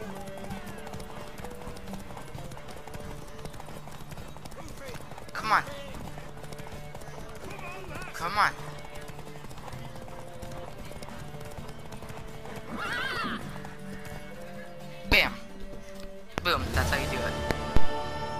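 A horse in The Witcher 3 video game clops along steadily under game ambience and music, with several loud neighs and whinnies breaking through near the middle and end.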